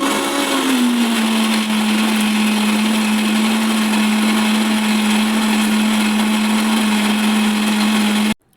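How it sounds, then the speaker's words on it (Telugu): A mixer grinder runs steadily, blending ginger chutney in one continuous, loud motor whine that holds for about eight seconds and then cuts off abruptly. "చల్లారిన తర్వాత అయితే మిక్సీకి అయితే పట్టేస్తున్నాను నేను"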